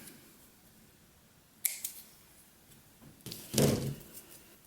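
Scissors snip through yarn on a knitted Christmas tree ornament: two quick, quiet cuts a couple of seconds apart, the second a little fuller, close by in an otherwise still room.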